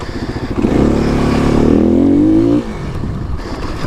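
Kawasaki KLX300 dirt bike riding off road, its engine revving up into a rising whine and then cutting back to a lower idle, loud and close.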